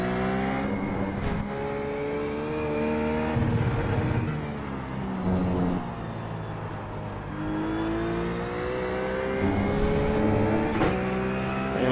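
A RUF race car engine in the iRacing sim at Mid-Ohio revs hard and steadily, its rising and falling harmonic whine climbing through the gears and dipping briefly before surging again, loud and close throughout with no talk.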